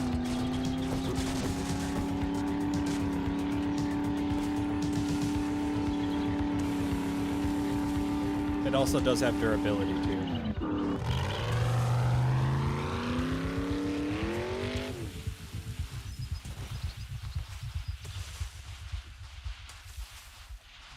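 A car drives in the survival game 7 Days To Die: a steady engine drone with a brief rising rev midway, easing off near the end, while a voice talks over it.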